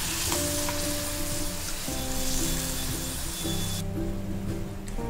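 Ginger paste fried in hot oil for ginger thokku gives a steady, dense sizzle with a faint hum beneath it. The crackle softens a little toward the end.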